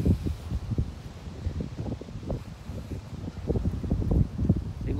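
Cold wind blows outdoors in Japan, gusting and buffeting the microphone with a low, uneven rumble throughout.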